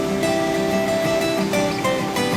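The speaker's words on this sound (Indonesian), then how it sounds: "Pemirsa, akhirnya saya sampai di air terjun Batu Kuho." The Batu Kuho waterfall in Siulak, Kerinci, roars as a steady, broad rush of falling water, close and continuous with no voices over it.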